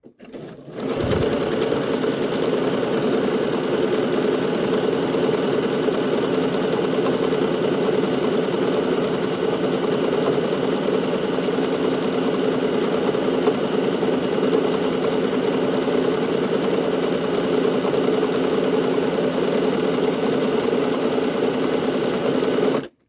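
A sewing machine runs steadily and continuously, gathering a fabric strip at a long stitch length and high tension, its mechanical whir close and loud throughout.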